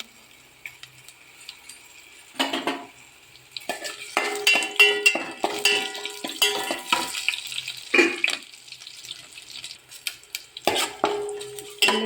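Dried red chili frying in hot oil in a pan, with a soft sizzle under repeated clinks and scrapes of a spoon stirring against the metal, coming in irregular bursts separated by quieter pauses.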